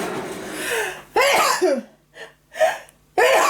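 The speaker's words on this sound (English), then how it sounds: "Oh, I think I need to sneeze." A woman sneezes up close, indoors at a craft table: a few sharp, breathy bursts with gasping intakes between them, loud and abrupt against near silence.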